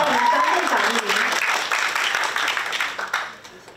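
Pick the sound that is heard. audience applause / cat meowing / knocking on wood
audience applause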